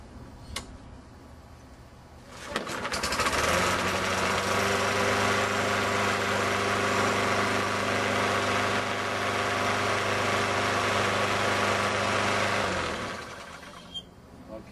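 Tecumseh lawn mower engine, just repaired after having no spark, catches and runs steadily for about ten seconds at a loud, even drone before cutting off, with faint handling noises before and after.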